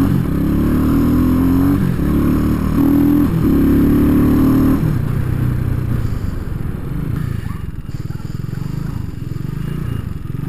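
A motorcycle revs while being ridden, its loud engine rising and falling in several pulls before settling into a steadier rumble, heard close up with road and wind noise.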